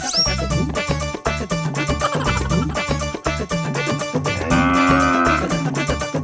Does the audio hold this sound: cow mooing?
yes